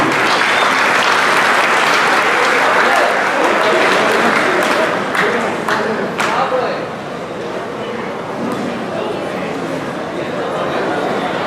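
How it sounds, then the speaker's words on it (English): A banquet crowd applauds the men's cross-country team at an athletic hall of fame event, dense clapping that swells loudly at first, then thins and softens with a murmur of chatter underneath. "Round of applause for the men's cross-country team."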